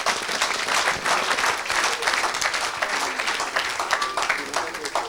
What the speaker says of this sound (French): Acclamez pour Jésus ici.